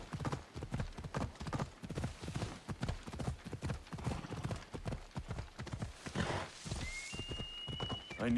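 Horse hooves beat in a fast, steady rhythmic clip-clop as a horse gallops in Assassin's Creed Odyssey, moderately loud and continuous, with a faint tonal game sound near the end.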